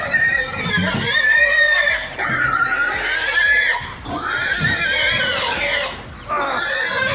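Pigs being unloaded from a livestock truck down a ramp squeal and scream in loud, overlapping bursts close by, with brief pauses between shrill cries.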